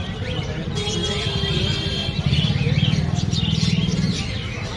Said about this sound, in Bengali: দারুণ সুন্দর সুন্দর পাখি।